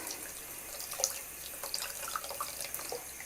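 Tap water runs and splashes as dentures are rinsed in an oral-care setting, a soft, steady trickle with small drips, fairly faint and with no talking.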